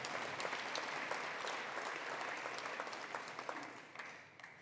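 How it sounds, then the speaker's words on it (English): An audience at a community college's state-of-the-college address breaks into steady, sustained applause, fairly distant and even, easing off slightly toward the end. "It's okay, you can clap."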